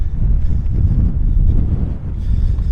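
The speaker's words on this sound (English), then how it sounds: "The wind, man." Strong wind in a desert canyon buffeting the microphone, a loud continuous low roaring rumble with gusty surges and no talk.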